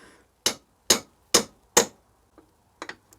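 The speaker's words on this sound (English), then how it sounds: "A little bit over generous with the tapping." A hammer taps a BSA Bantam B175 horn part resting on a vise, four evenly spaced sharp metallic knocks followed by a few lighter, quicker taps, close and clear with no talking.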